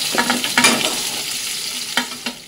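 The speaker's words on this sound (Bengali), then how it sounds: "দেখো আলু, গাজর আর ক্যাপসিকামটা আমার একদম ভাজা হয়ে গেছে" Potato, carrot and capsicum frying in a pan, with a few short scraping stirs over a soft, steady sizzle; no voices.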